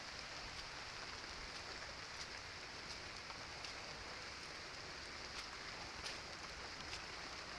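Rain falls steadily in a village setting, a soft continuous hiss with faint scattered drops, quiet and even throughout with no voices.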